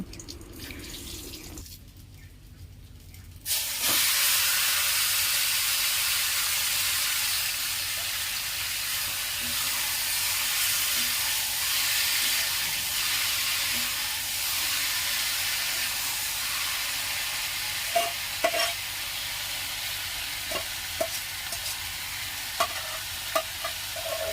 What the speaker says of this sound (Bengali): মাংস তো আমার কষানো প্রায় হয়েই গেছে